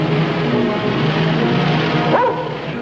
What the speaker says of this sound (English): The other man had a hunting dog.